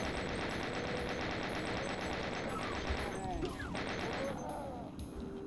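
Rapid machine-gun style bursts from a chaingunner enemy in the Doom video game, loud and sustained against continuous game sound, with other in-game effects sweeping through toward the end.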